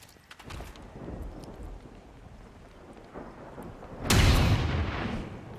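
Gunshot in the video game XCOM 2: a single heavy, booming blast hits near the end and rings out over a low rumbling game ambience, with smaller muffled thuds earlier.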